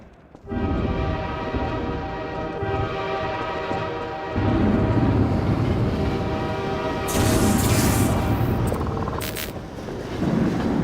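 A train in Half-Life 2: Episode One rumbles past loud and close, a long sustained horn tone over heavy rolling rail noise with hissing bursts near the end, no voices.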